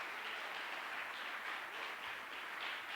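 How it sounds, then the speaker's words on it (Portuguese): A church congregation applauds, a faint, steady wash of many hands clapping at a distance, with no talking. "Aplauda o Senhor bem forte no nome de Jesus."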